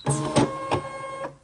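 A Brother ScanNCut cutting machine whirs as it feeds out and unloads its cutting mat, a steady mechanical motor hum with a few rhythmic clicks and pulses, close and alone.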